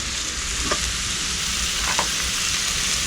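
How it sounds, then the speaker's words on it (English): Chopped sisig fries in hot oil in a pan, a dense continuous sizzle with a couple of faint scraping clicks from stirring, steady and close, no voices. "make sure that the sisig goes in first so that it can crisp up on the bottom"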